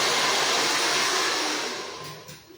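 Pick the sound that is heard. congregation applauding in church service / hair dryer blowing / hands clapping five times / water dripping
hair dryer blowing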